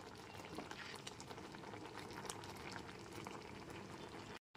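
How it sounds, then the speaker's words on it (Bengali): Raw mangoes boil in water in a pot over a gas flame, giving a steady, close, continuous bubbling roll that drops out for a split second near the end. "এবার গ্যাসের ফ্লেমটা অন করে 10 থেকে 12 মিনিট আমগুলোকে সেদ্ধ করে নেব।"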